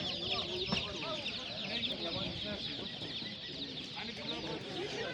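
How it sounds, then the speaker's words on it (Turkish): A dense, continuous chorus of many chicks cheeping at a poultry market, high and shrill, with faint background bustle beneath. "Pazarımızda çoğunlukla civciv var."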